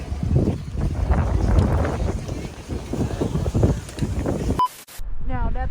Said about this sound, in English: It's windy, so we'll buckle up.